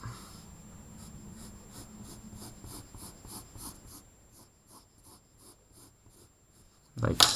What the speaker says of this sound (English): sketching in your parabola